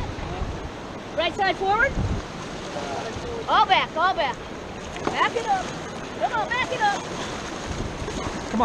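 Raft paddles dig and splash in the water on the Upper Taylor river, a rough, continuous wash with rhythmic strokes and wind, while a guide's voice calls out over it.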